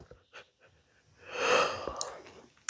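A human yawning: a long breathy, airy exhale that swells and fades, preceded by a few soft breaths and small mouth sounds.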